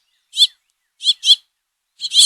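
House finches chirp in short, bright, high calls: a single note, then a quick pair, then another close pair, clear and near against silence.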